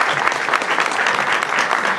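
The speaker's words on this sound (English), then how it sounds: "Please join me in thanking all our co-sponsors this evening with a round of applause." An audience at an evening church fair event applauds the co-sponsors, a dense, loud, steady round of clapping from many hands throughout.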